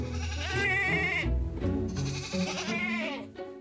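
Goats on an Icelandic goat farm bleating in a few loud, wavering, nasal cries close by, one call after another with short breaks between them.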